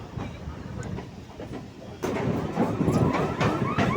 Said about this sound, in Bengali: আমাদের ট্রেন এখন হাওড়া ব্রিজের তলা দিয়ে যাচ্ছে